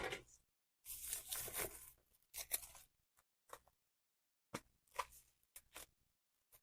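Plastic packaging on a Michael Jackson vinyl record is cut open, with close, quiet scissor snips and short tearing bursts separated by silent gaps.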